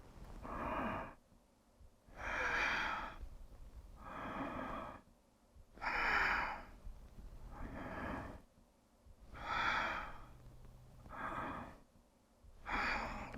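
Breathing in a yoga flow, with sharp, forceful breaths repeating in a steady rhythm of about seven bursts with short gaps between them. Each breath is close and clear, and no one talks over it.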